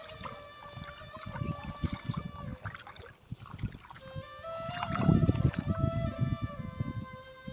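Footsteps wading through knee-deep floodwater on a road, with rhythmic sloshing and splashing strides close by that grow heavier toward the end, over a constant background hum.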